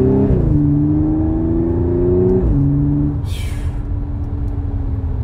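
Audi S5 coupe's supercharged V6 pulls hard through the gears, its exhaust note climbing, dropping sharply at two quick paddle shifts and climbing again, loud and close from the cabin, with a brief hiss near the end.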